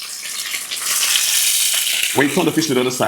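Red snapper sizzles and crackles in hot oil, a steady frying hiss, with a brief clatter of handling near the end.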